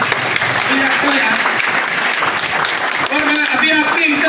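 An audience at a welcome event for selected students claps in loud, sustained applause, steady throughout with a few voices mixed in.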